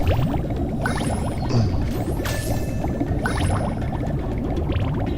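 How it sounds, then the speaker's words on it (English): A seahorse in an underwater tower level of the Spyro video game releases a ring of bubbles, a continuous bubbling, gurgling wash with brighter fizzing bursts, steady and fairly loud throughout. "you can hear the noise when he puts the ring of bubbles in"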